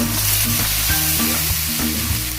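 Pork sizzles loudly in a hot pan with tomatoes while being stirred, a steady, close, continuous frying hiss with a few low scraping pulses from the stirring and no talking.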